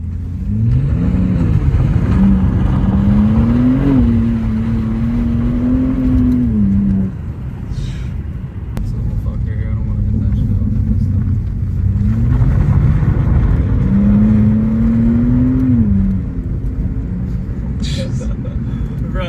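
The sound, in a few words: BMW G87 M2 car drifting sideways on a rally course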